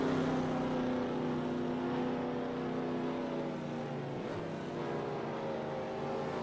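NASCAR Cup Series stock cars roar toward the checkered flag at the Busch Light Battle at the Beach, a steady loud engine drone with a brief passing sweep near the end.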